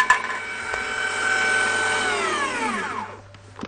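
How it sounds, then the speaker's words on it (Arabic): Ghee and powdered sugar whipped in an electric mixer, a steady loud whir that holds for a few seconds, then drops in pitch as the motor winds down and stops. "خفقنا السمنه كويس جدا مع السكر البودر"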